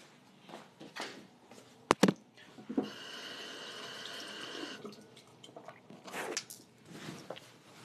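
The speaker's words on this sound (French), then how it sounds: "je vais à mon robinet" A tap runs steadily into a sink for about two seconds, with a few clatters and handling noises just before it and soft movement sounds afterward.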